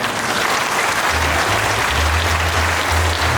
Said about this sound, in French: on va applaudir pour moi